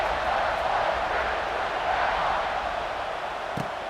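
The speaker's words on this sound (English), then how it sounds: "this crowd is buzzing after that last score" A crowd fills a College Football 25 video game stadium with a loud, dense, continuous roar of cheering and murmur, steady throughout.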